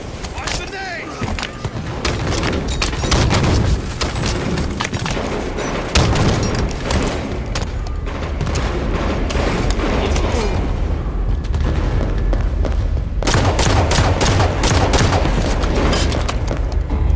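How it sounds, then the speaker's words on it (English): Grenade blasts and rapid gunfire from a video game shooter, loud and continuous, with booming impacts and crackling shots layered densely throughout, and bursts of voice chatter mixed in. "Watch the nade!"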